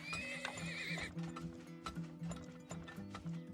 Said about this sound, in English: Let's get another horse on the field.